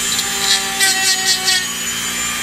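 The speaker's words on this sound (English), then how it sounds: "I find with the Dremel and a really fine stone, I can not only get into the little corners" A Dremel rotary tool fitted with a fine stone polishes the edges of exotic leather grips for a 1911 pistol, giving a steady high whine with soft, rhythmic grinding swells as the stone passes along the edge.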